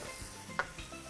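Skins sizzle quietly in butter in a pan, a soft steady frying hiss with a single brief clink partway through, no voices.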